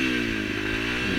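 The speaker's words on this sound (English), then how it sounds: "So for the next few minutes, you're revving it like a moron." A Honda CRF250L dual-sport motorcycle engine, just after a crash on a canyon forest road, holds a loud, continuous high rev, a dense buzzing drone without pause.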